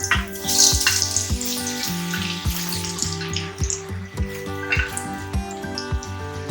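Potatoes drop into hot oil for a karela sabzi and sizzle and crackle steadily, close and moderately loud. A steady tonal hum runs underneath.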